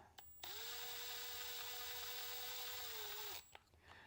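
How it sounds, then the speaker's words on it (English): A power driver whines for about three seconds, steady and close, as it drives a button head screw into a heat insert, then stops abruptly. "take your one of your button head screws and your driver, just kind of nice and gently right through the hole"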